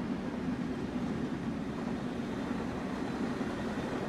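Train Sim World 2 video game train heard from an exterior view: a steady, rumbling rail roar with constant wheel and engine noise, fairly loud and unbroken, with no voices.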